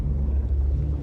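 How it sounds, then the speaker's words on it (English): A spaceship engine firing up in the game Starship Troopers Raising Hell: a loud, steady, deep rumbling drone that holds without a break. "Gears firing up the engine"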